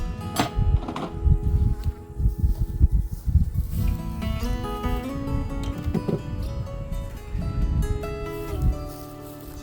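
Honey bees buzz around their hive after a freeze, a dense, close, continuous drone with varying pitch and bursts of wingbeat as individual bees pass near.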